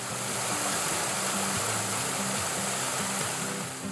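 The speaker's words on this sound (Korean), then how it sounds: "와 물소리가 돌비 사운드로 이렇게 들리지 않아?" Water pours steadily down an apartment complex water feature, a continuous close rushing splash that holds even and full throughout, with faint low tonal hum underneath.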